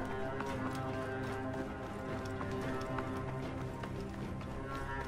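A horse gallops in Assassin's Creed Origins on PS4, with steady rhythmic hoofbeats clip-clopping up close under low game music and ambience.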